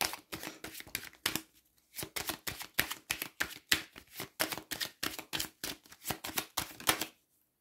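Tarot cards are shuffled and laid down during a cartomancy reading, giving a rapid run of crisp, close papery slaps and riffles with a brief pause before the dense rhythm picks up again.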